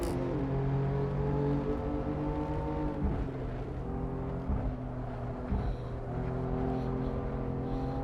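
A BMW M4 race car in the Assetto Corsa racing sim at Mosport, engine droning loud and steady with rising revs, shifts and pitch changes as it accelerates, other cars' engines blending in.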